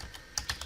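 A few quick, quiet keystrokes tap on a computer keyboard, entering a router configuration command, with short irregular clicks close by.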